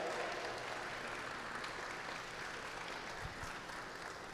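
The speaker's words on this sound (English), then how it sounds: "A great big round of applause." Sustained audience applause at a talk or presentation, a dense steady wash of clapping filling the whole stretch at even loudness, with a faint murmur of voices beneath.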